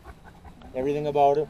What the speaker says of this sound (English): This is a basically pure wolf.